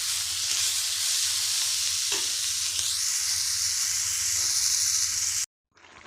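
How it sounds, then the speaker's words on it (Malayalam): Onions and masala for a Malabar-style egg roast sauté in a hot pan, giving a close, steady sizzle with occasional stirring scrapes that cuts off abruptly near the end, with no talk. "ഇത് കിടന്നിട്ടൊന്ന് വഴറ്റി എടുക്കട്ടോ."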